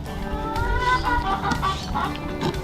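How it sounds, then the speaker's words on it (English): Hens squawking and clucking for their breakfast, several birds calling close by in overlapping bursts, loud and busy with no pauses. "those girls are squawking for their breakfast"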